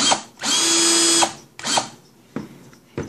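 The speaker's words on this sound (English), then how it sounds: "you also need your drill" A handheld power drill whirs loudly and close in several short bursts, one long run of nearly a second followed by briefer triggers, with quiet pauses between.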